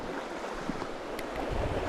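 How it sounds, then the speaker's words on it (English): A side creek pours into Rock Creek in Montana during fall, a steady, broadband rush of flowing water close by with a slight swell toward the end, no voices. "This is this awesome creek coming into Rock Creek here."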